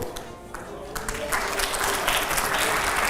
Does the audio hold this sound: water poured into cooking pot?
no